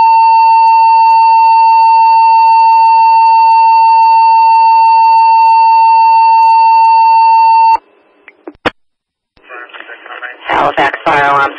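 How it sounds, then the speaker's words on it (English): Steady electronic alert tones sound from a fire alarm dispatch in Halifax, Massachusetts, striking a box for a chimney structure fire, then cut off as a radio voice begins announcing over a crackly channel. "Halifax Fire Alarm striking a box for a possible structure fire."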